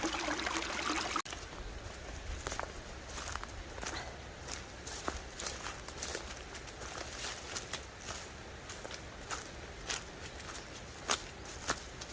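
A full mountain valley stream rushes and trickles steadily after rain, a faint constant wash of water with footsteps crunching and clicking irregularly nearby.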